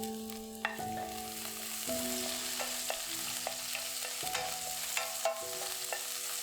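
Chopped green onions frying in a pan for steamed twisted rolls, a steady sizzle with occasional stirring scrapes and light clinks of the utensil, close and fairly quiet.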